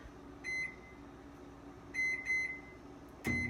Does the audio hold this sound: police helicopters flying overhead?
no